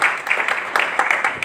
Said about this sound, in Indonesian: mari kita beri tepuk tangan yang mulia bagi Tuhan kita Yesus Kristus